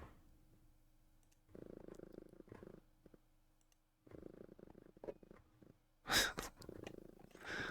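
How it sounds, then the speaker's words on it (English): A cat purrs in a quiet room, a soft rumbling purr that comes in several bursts with pauses between them. Near the end there is a short, sharp sneeze-like burst. "Well, you're purring so loud."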